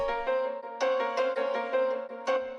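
A piano treated with EQ, reverb, delay, compression and sidechain plays bright, rhythmic chords that swell and duck in a pumping pattern, with a low kick thump briefly at the start and end.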